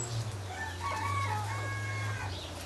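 Hen in a single-sex flock crows a rooster-like cock-a-doodle-doo, a clear, moderately distant call lasting about two seconds over a steady low background hum.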